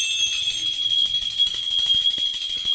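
Steady, shimmering ringing of a small prayer bell during a Hindu puja carries on without pause, high-pitched and fairly loud, with faint low rustling beneath.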